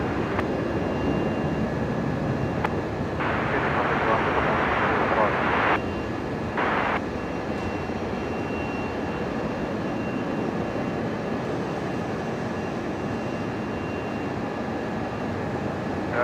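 Qantas 196 airliner landing on runway 01 right at Brisbane Airport at night, a broad steady jet roar heard from a distance under air traffic control radio talk.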